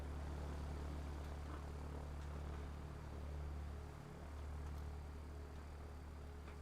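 Propeller engines of Hurricane and Spitfire fighter planes drone in a video game, a steady loud hum that dips briefly before resuming.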